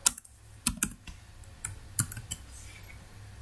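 Keys clack in short irregular bursts on a computer keyboard as someone types while coding in PHP, close and fairly quiet with brief pauses between strokes and no talking.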